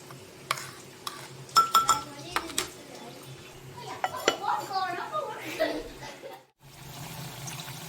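Shirataki rice and water stirred in a metal pot, with clinks and scrapes of a utensil, light watery sloshing and a lid set down, while a person talks throughout.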